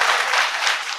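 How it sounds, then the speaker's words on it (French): Dense crowd applause at a televised political gathering in Benin, loud and steady throughout with no pauses. "Applaudissez pour lui."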